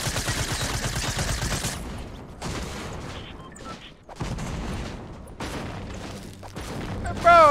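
Rapid suppressed SMG fire in Fortnite Battle Royale, dense fusillades of muffled shots in bursts with brief pauses, loud and close.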